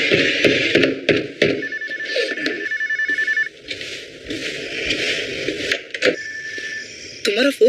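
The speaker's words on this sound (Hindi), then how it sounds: "तुम्हारा फोन बज रहा है।" A telephone rings in a Hollywood action thriller, repeated loud bell-like trills in bursts mixed with other scene sounds.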